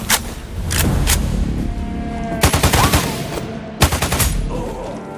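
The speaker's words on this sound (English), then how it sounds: "Someone is shooting nearby!" Gunfire in the video game Sniper Ghost Warrior Contracts 2: loud, close volleys of rapid shots, a burst at the start and heavier rattling clusters midway and near the end, over a constant low battlefield rumble.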